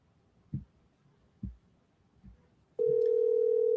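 An outgoing telephone call produces a steady electronic ringback tone that starts abruptly and holds, loud and clear, after a few soft thumps in a quiet background.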